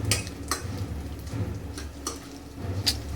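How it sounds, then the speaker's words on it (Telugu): Hot oil spattering and crackling in a pan while amaranth leaves fry, with a few sharp clinks of a utensil stirring against the pan over a steady low sizzle, heard up close. "దడదడ అవుతుంది, ఎందుకంటే ఆ నూనె పైకి లేస్తుంది అనమాట"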